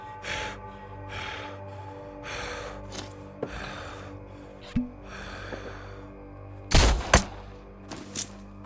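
Enemy gunfire in the video game Blood West: rhythmic bursts of shots followed by a few louder, sharper cracks near the end, over a low game ambience.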